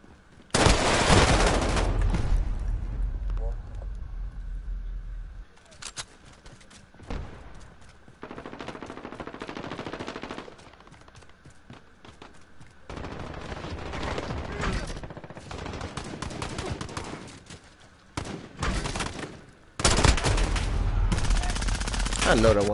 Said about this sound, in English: I hear shooting, but I ain't stopping.